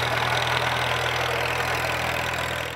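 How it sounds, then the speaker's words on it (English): A 1945 Case VAIW tractor engine idles at a steady, even rumble with a low throbbing hum, close and continuous, with no voices. "This tractor was built by Case, served his time in the 40s moving very sensitive material for the Canadian Air Force."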